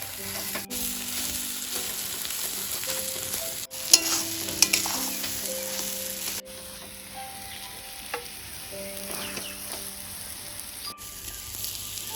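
A potato mixture frying in a pan in a village kitchen, stirred with steady scraping strokes over a constant crackling sizzle that sounds almost like rain, close and continuous.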